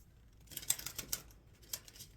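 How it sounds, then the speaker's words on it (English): A deck of tarot cards is shuffled nearby in a quiet room, giving a few crisp, quick riffling snaps separated by soft pauses. "I am shuffling for the concluding message."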